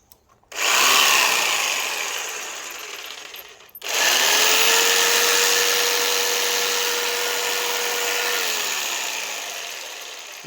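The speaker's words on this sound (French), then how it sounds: "Je vais maintenant brancher la scie sauteuse." An electric jigsaw powered from an All Power AP R600V2 portable power station runs in two bursts. The first is a short whir that cuts off, then a longer steady buzz with a faint whine before it winds down.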